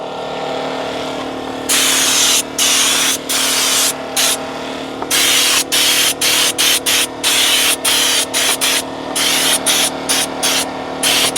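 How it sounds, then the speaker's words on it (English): Interior dressing sprayed as a fine mist from a distance onto the door plastics and trim of a Kia, heard as a steady run of short, hissing trigger bursts with brief gaps between them. "I'm spraying it from far so that it's just like a nice mist"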